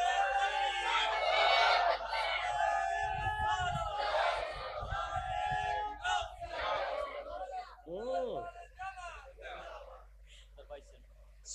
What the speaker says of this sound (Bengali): ওকে তাকবীর দাও।